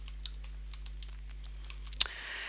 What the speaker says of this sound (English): the best way to do this is to click on the insert key on your keyboard